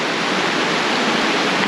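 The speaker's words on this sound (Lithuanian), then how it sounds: "Kažkur tas vanduo bėga" Water rushing steadily in a stream or waterfall in the Slovak mountains, a loud, even, broadband roar with no pauses or voices.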